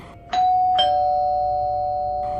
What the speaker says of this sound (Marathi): पण अचानक दाराची बेल वाजली